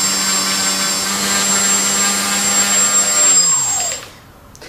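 A single DIY brushless motor on a homemade RC quadcopter frame with a PIC18 flight controller, running at about 60% power: a loud, steady high-pitched whine and hum that spins down sharply near the end.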